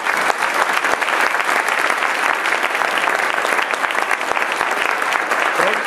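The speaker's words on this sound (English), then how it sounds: "if you would please join me in a round of applause to thank everybody" A tech meetup audience gives a loud, sustained round of applause, close and continuous clapping from a crowd with no pause.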